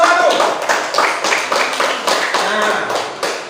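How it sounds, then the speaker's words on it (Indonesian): Classroom applause for a student discussion group in a teacher-training session, a brisk burst of many hands clapping in a dense, close patter that fades slightly toward the end, with no talk over it. "Tepuk tangan dulu untuk kelompok satu."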